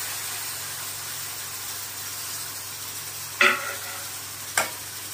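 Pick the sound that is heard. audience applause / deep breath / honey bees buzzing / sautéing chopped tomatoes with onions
sautéing chopped tomatoes with onions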